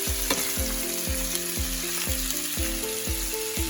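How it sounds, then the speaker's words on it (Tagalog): Yakitori chicken cooking in a pan, with a loud steady sizzle running throughout and regular scraping strokes about every half second, close up with no voices. "Lutuin muna natin yung chicken bago yung teriyaki."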